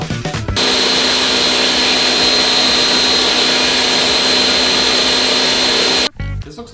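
A Ninja blender crushing ice for an anabolic ice recipe, roaring loud and steady for several seconds after a brief rattling start, then cutting off abruptly.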